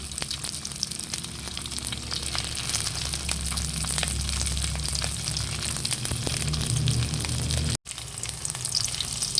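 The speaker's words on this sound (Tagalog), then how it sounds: "Akin na rin po ipiprito itong pong pusit." Squid sizzles and crackles steadily in hot cooking oil, a close, continuous frying hiss with scattered pops and spatters and one brief dropout near the end, no voices.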